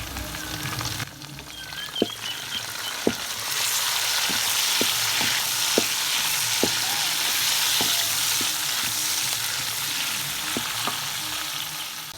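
Masala of golden onions, green chillies and tomatoes fries in a pan for a village-style fish curry, a steady close sizzle broken by regular sharp clicks of a spoon stirring against the pan.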